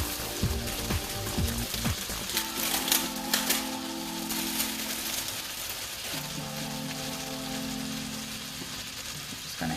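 Duck breast searing in oil in a hot pan, a steady crackling sizzle with sharp popping spatters, loudest early on, running continuously with a low hum underneath.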